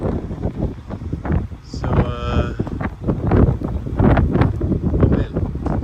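Strong wind gusts roar over the microphone outdoors on a disc golf course, buffeting steadily throughout, while someone talks briefly.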